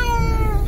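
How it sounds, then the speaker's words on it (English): A pet cat at an RV campsite gives a single short, close meow, loud and clear over a low background rumble. "he popped his head up and meowed at me"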